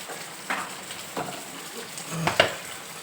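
Curry is stirred in a pan after rice flour is added, with a low steady sizzle and a few distinct scrapes and knocks of a spoon against the pan, close by and without speech.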